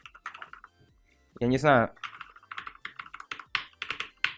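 Typing on a Durgod Taurus K320 mechanical keyboard with Cherry MX Red switches, a quick run of close, crisp keystrokes; someone speaks briefly near the start.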